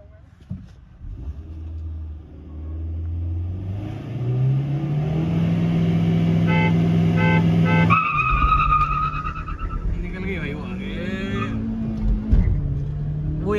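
A Kia Seltos and a Hyundai Verna drag racing side by side: engines rev hard and rise in pitch through the gears, with a gear-change drop, loud and close from inside one car, with brief muffled talk near the end.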